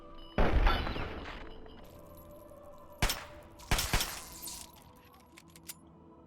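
Gunfire in the video game Fallout 3: a loud burst of shots, then a sharp single shot and another short burst a second later, followed by fainter scattered cracks over a quiet background.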